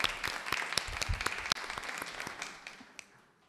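Applause from an audience at a French council meeting, a dense patter of clapping with a few sharp individual claps, fading out toward the end.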